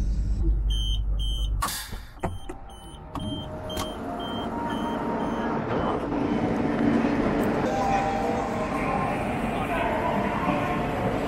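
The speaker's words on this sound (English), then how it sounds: "So that train, obviously it's still the G7236, but it's now the 11:02 departure from here, the main Suzhou station" High-speed train G7236 at Suzhou station, a loud steady rumble and rising whine of the train with electronic beeping tones early on, heard from close by.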